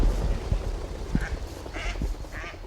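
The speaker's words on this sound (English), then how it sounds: "plus we get ducks." Ducks on a farm pond made from a dammed stream give several close, loud quacks in short bursts over outdoor background noise.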